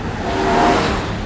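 Naturally aspirated 4-litre flat-six of a Porsche Cayman 718 GTS revs briefly, the engine note swelling and easing in a short close burst, with no talking.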